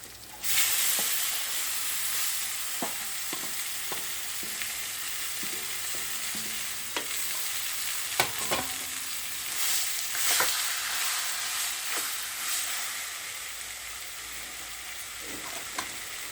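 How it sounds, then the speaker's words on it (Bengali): Boiled olives for olive pickle sizzling in a frying pan, a constant hiss after an initial burst, with occasional light scrapes and taps of stirring, no talk. "এখন আমি এর মধ্যে সেদ্ধ করা যে জলপাইটা আছে সেটা আমি এর মধ্যে দিয়ে দিচ্ছি।"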